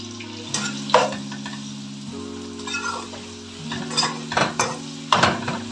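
Onions frying in hot oil in a pan for a chicken gravy, a steady sizzle with scattered clinks and scrapes from stirring, fairly close and with no talking.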